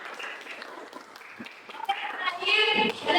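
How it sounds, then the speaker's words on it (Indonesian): A classroom of children claps hands together during a lesson, the scattered clapping building louder toward the end amid chatter and children's voices. "Tepuk tangan kalian semua."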